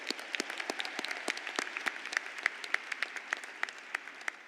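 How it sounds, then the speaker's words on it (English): Applause from a high school commencement audience honoring graduates, a steady patter of many hands with sharper individual claps standing out, moderately distant and even throughout. "Please give yourselves a round of applause."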